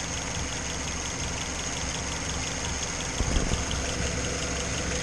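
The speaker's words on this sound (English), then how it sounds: "That's those injectors going tick," A project car engine idles steadily on a test stand, a dense mechanical drone with fuel injectors ticking rapidly underneath and a brief clunk partway through.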